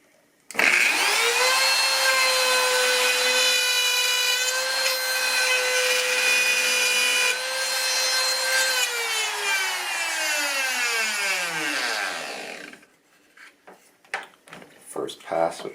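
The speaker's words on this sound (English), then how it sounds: "Now I'm routing the bass side in the same way." Router cutting a spline channel into the bass side of a broken guitar headstock, a loud, steady high-pitched whine for about twelve seconds that gradually drops in pitch as it spins down, followed by faint handling clicks.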